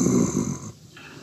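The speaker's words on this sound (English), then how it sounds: "I heard breathing close to my face." Close, heavy breathing for a radio drama sound effect, a rough, snore-like rasp right beside the listener that fades out after a moment; no speech.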